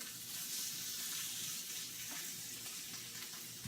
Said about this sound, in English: Take a little bit, and I plop it in the oil.